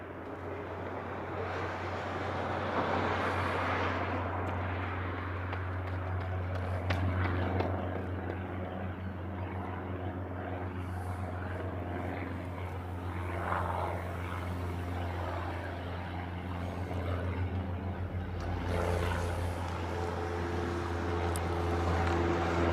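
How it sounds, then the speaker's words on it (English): A Japan Airlines airliner taxiing out at Honolulu airport, heard as a steady low engine drone and hum from a distance that holds across the whole stretch with slight swells. "you see the Japan Airlines taxiing out"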